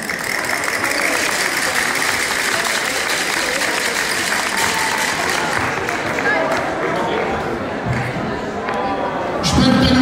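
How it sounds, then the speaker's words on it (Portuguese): A live audience at a Portuguese folk dance group's show gives a big round of applause, sustained dense clapping that builds louder near the end, with a low engine-like rumble underneath. "uma grande salva de palmas"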